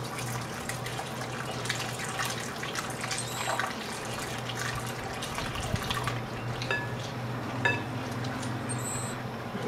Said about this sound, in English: Now, add 1/2 of the milk while stirring.